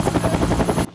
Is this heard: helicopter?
yes